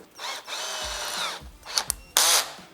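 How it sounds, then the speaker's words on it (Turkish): A cordless drill fitted with a wood-boring bit whirs in several short bursts, rising and falling in pitch, ending with a louder, harsher burst as it bites into wood. "Önce bir delik deleceğim."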